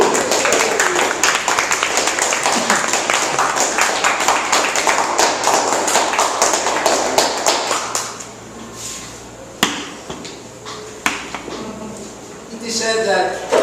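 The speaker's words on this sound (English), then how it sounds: "Let's welcome with a round of applause, Advanced Communicator Silver, Freddy de la Cruz." A crowd claps for several seconds at a Toastmasters club meeting in Metro Manila, dense steady applause that fades out, followed by a few scattered taps and thumps in the room.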